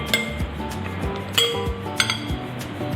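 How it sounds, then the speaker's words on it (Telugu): Salad ingredients, including soaked peanuts, are tossed together in a bowl, giving close clinks and knocks of a utensil against the bowl at an irregular pace. "ఇవన్నీ వేసిన తర్వాత వీటిని కొంచెం కలిపేసి"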